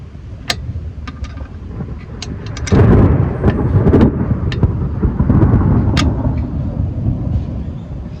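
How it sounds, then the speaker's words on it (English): Thunder from a nearby storm rolls in with a loud, deep rumble that swells partway through and lingers, over steady rain and scattered drips. "So the storm's not too far away."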